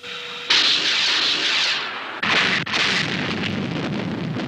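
Missiles launch in the Stingray puppet TV series with a loud roaring rush of exhaust, then a second surging whoosh and a sustained rumbling hiss that carries on to the end, with no voices.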